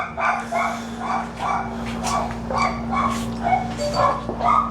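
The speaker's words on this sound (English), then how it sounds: "Hopefully you don't hear the barks." A dog barks outside in a steady series of about ten evenly spaced barks, somewhat distant, over a constant low hum.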